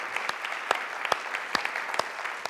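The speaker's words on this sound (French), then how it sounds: "Je vous demande de les applaudir." A church congregation breaks into applause at a service, many hands clapping with a few sharp, louder claps standing out near the listener, with no talk over it.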